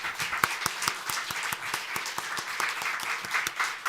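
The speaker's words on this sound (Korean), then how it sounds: "요 앞에 설 때 먼저 박수를 크게 쳐주세요" A congregation at a Christmas church service in Seoul claps, a moderate, fairly rhythmic patter of hands with distinct individual claps standing out, heard indoors at mid distance.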